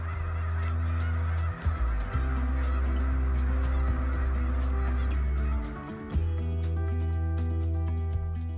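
A large flock of snow geese honks continuously in a harvested grain field at Baie-du-Fèvre, a dense, loud chorus of overlapping calls with a brief dip partway through.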